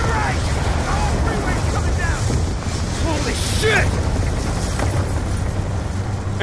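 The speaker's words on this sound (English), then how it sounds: "The whole freeway's coming down!" Freeway collapsing in explosions in Call of Duty Black Ops 2, a loud sustained roaring rumble with crashes and bursts throughout, mixed with voices shouting over the din.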